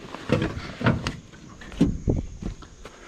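The solid, heavy door of an old project car is opened and shut, giving several close, dull thumps and clunks in quick succession.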